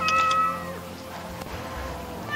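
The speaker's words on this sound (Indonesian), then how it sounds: "Mana kucing?" A cat meows a few times in a thin, wavering voice indoors, against a soft noisy background with a low rumble.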